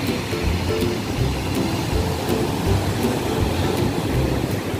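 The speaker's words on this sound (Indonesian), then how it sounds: "Ombaknya juga lumayan besar" Steady broadband roar of ocean surf at Citepus Beach, fairly big waves breaking continuously at moderate distance, alone without voices.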